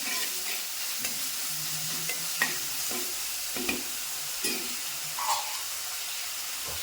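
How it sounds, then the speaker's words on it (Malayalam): Tomato curry frying in a pan with salt, stirred with a spoon in a few scrapes and taps over a steady soft sizzle, close and fairly quiet, no talking. "നമുക്കിതൊന്ന് ഇളക്കി കൊടുത്തിതൊന്ന് മൂപ്പിക്കാം"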